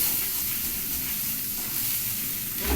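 Boiled potatoes going into a pan of frying besan, a continuous close sizzle and hiss of hot oil that holds steady throughout, with no voices.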